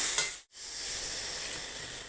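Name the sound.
tamarind water poured into sizzling pan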